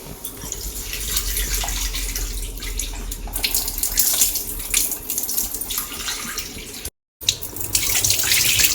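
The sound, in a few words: washing lentils under running tap water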